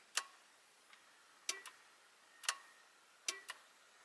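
Faint, sharp clicks from a Nissan Titan blower motor resistor switching on, four quick clicks, some doubled, evenly spaced in a quiet cab.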